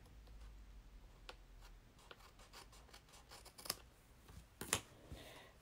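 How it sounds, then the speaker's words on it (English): Scissors snip excess paper while a Christmas card is being made, giving a few quiet, scattered crisp cuts and rustles that build to a couple of sharper snips near the end. "we're going to go ahead and cut a little bit of that excess here"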